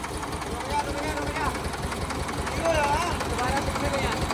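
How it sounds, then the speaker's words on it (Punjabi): An HMT 5911 tractor engine runs at a site where a concrete house roof slab is being poured, a steady low chugging idle under nearby voices throughout. "5911 ਆਇਆ ਵੀ 5911 ਟਰੈਕਟਰ ਐਚ ਐਮ ਟੀ"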